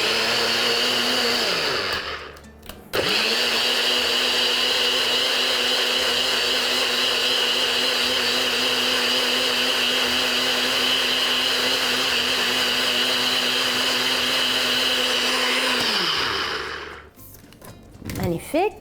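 A kitchen blender whirs steadily for about fifteen seconds, mixing a homemade piña colada with a large ice cube. It starts with a brief stutter, holds a loud motor drone with a constant pitch, then spins down, followed by rattling.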